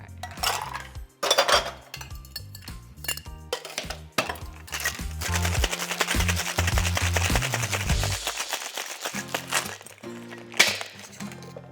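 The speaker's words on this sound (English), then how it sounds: "So let's get it shaken." A cocktail shaker full of ice being shaken for a Paper Plane cocktail, loud rapid rattling and clattering of ice against metal in a sustained burst, close up, then a few final knocks.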